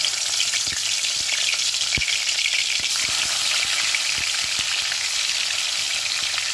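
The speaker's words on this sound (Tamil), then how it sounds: "இப்போ நம்ம ஊற வச்சுருக்கிற சிக்கன் பீஸை ஒவ்வொன்றா எடுத்து இதில் சேர்த்துக்கலாம்." Marinated chicken pieces for lemon pepper chicken fry in spiced oil with a dense, continuous sizzle. Soft stirring knocks and crackles are scattered through the steady, close hiss.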